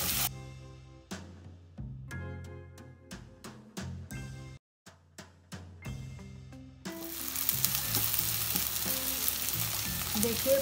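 Onions fry in a pan over a fast, high flame. A dense, loud sizzle rises in the final few seconds after a quieter opening passage.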